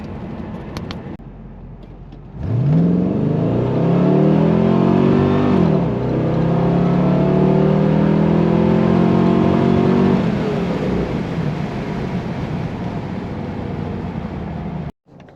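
A 1995 Chevrolet Corvette with an LT1 V8 idles, then accelerates hard through a pull, engine note rising steeply, dropping at a shift and climbing again before easing off, loud and close.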